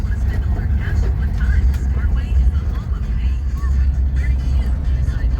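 An old car that sat for 28 years, with a leaking radiator and carburetor trouble, drives up a driveway. Its engine rumbles low and close and steady while a person talks over it.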